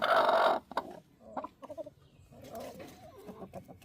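Chickens cluck nearby in short, scattered bursts, one louder squawk up front followed by softer murmuring clucks.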